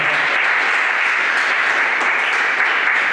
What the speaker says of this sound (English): So for that, a big clap to you